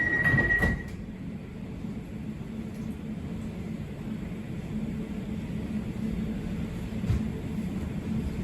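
An Elizabeth line train sits at the Paddington station platform, a steady low rumble and hum of the train under the station roof after a short high tone at the start, with no talking.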